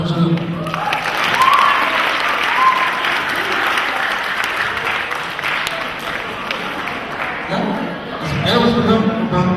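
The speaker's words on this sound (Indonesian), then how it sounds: "Tepuk tangan untuk Mas Bambang Sugeng" Sustained, loud applause from an audience in a hall greeting a guest called up front, lasting several seconds with some crowd noise and voices rising near the end.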